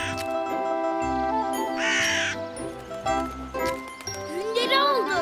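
A cartoon crow caws in short, harsh calls over a jingling, tinkling music score, with a voice chattering between the caws.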